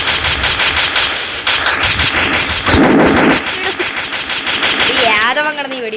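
Gunfire in the mobile battle royale game Free Fire MAX, an MP5 submachine gun firing rapid bursts mixed with other game effects, loud and dense, while someone talks over it.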